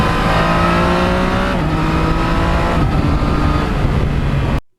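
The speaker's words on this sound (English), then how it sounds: "that beautiful, beautiful sound of that MT09 going through the gears" A Yamaha MT-09 motorcycle revs up through the gears close by, its loud engine note rising in pitch, dropping at each shift and climbing again before cutting out.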